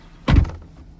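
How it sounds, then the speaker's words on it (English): A 2011 Camaro RS V6 door swings shut with a single solid, close thunk, followed by quiet cabin hush. "Let me close the door so y'all can see."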